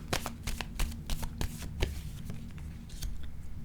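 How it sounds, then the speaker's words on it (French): Cards riffled and shuffled from a deck, a quick run of close crisp flicks and snaps, with a few louder taps scattered through a few seconds, no voices. "Attendez, je vais piger une autre carte."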